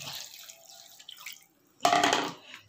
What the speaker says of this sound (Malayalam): അതിലേക്ക് നമുക്ക് അല്പം വെള്ളം കൂടി ചേർക്കാം